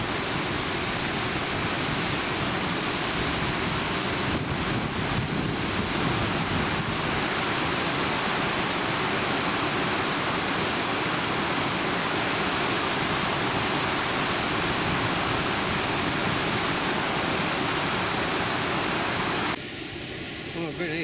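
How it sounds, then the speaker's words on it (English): Water rushing over a weir on the River Swale makes a loud, steady, broadband roar that holds unbroken for about twenty seconds and shifts slightly near the end. "There you can see the full width of the weir."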